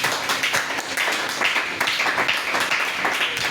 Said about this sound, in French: On acclame Jésus pour la sœur Rebecca.